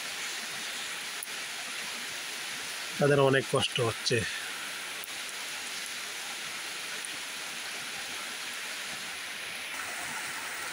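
Steady, continuous rain in hilly country hisses evenly throughout, with a voice speaking briefly over it.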